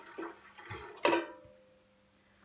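Water pours into a pot holding onion-skin dye liquid for textile dyeing, a brief gushing splash that rises suddenly and then trails off into a quiet, fading trickle.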